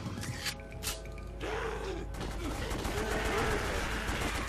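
Arcade-style gunfire and mechanical effects from the House of the Dead: Overkill video game, a few sharp shots early followed by a busier burst of game sounds, with a voice talking over parts of it.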